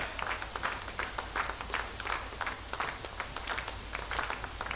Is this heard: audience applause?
yes